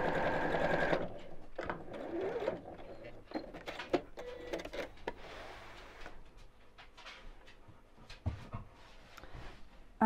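A sewing machine stitches straight across the seam of a pinwheel pincushion, whirring in short close bursts with small pauses and clicks between runs.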